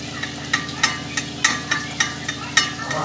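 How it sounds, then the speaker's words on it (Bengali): Stuffed kachoris filled with green pea mixture deep-fry in a kadai of hot oil, a close, steady sizzle broken by regular clinks and scrapes of a stirring spoon. "এই যে কচুরি ভাজা হচ্ছে।"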